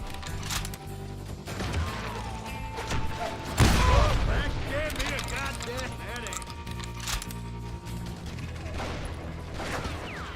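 Gunfire in the Western shooter game Call of Juarez: Gunslinger, with one loud, booming burst midway standing out over a steady, dense bed of game sound and music.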